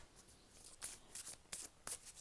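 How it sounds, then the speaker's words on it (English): A deck of Angel Answers oracle cards being shuffled, with four or five crisp riffling bursts at an even pace, close and fairly quiet, with no voices. "while I shuffle the Angel Answers deck"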